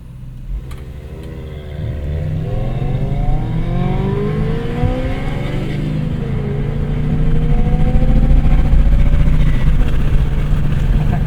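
A 2024 Audi RS7 pulls away under launch control, its turbocharged engine heard from inside the cabin, rising through the gears in a loud, building roar with shifts along the way.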